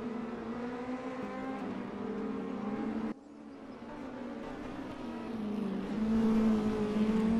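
A high-revving V8 DTM92 touring car engine in a racing video game drones at sustained high revs, dipping briefly as the pitch drops on a shift, then climbing and holding again.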